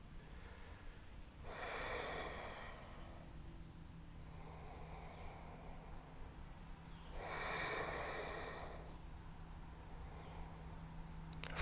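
Slow, heavy breaths during back exercises, two long whooshing inhales or exhales several seconds apart, close and fairly soft over a steady low background hum.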